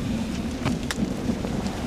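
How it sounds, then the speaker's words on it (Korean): Rain falls outdoors on Jeju Island, a steady close hiss of drops with gusty wind and a few brief sharper spatters over the short span. "비가 오네."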